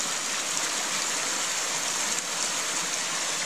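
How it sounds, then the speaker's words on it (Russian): River water rushes past a beaver dam in the April taiga, a continuous, fairly loud, even roar of flowing water close by, with no voices over it. "Она и шуметь меньше стала, вода."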